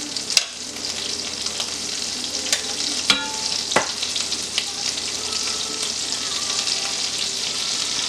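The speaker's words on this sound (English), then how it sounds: "Now the shrimp won't take but a couple of minutes on each side. But we want a nice sear to them." Blackened Cajun shrimp sear in a hot pan with a steady, close hissing sizzle, broken by a few sharp clinks and scrapes of a utensil.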